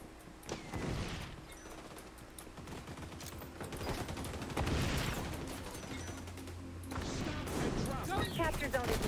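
Rapid automatic gunfire and explosive bursts in the shooter game XDefiant, with dense overlapping shots throughout and a voice talking over the action.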